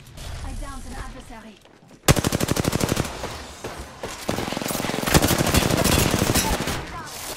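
Rapid bursts of automatic gunfire in the Apex Legends video game, loud sharp shots in quick strings with brief gaps, preceded by quieter game noise and a voice.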